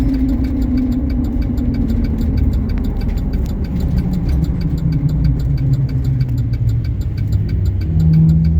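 Steady road noise from Hercules tires on a 2008 Chevy Silverado 2500 fills the cab, a continuous hum and rumble from the moving truck with a faint rhythmic ticking over it.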